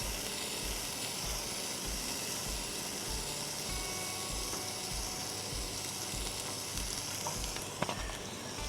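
Three strips of bacon sizzle in butter under a weight on a hot griddle, a steady close hiss and crackle with a faint repeating thump beneath, continuous throughout.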